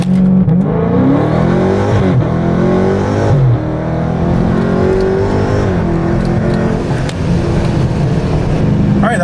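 A Procharger-supercharged Dodge Scat Pack on drag radials revs hard and launches, its loud engine roar climbing and dropping through gear changes up close for the whole stretch.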